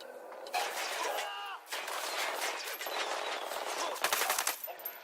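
Rapid automatic gunfire and sharp single shots in the tactical shooter Tom Clancy's Ghost Recon Wildlands: bursts crackle close and loud in an outdoor firefight, with brief pauses and a dense volley near the end, radio voices faint underneath.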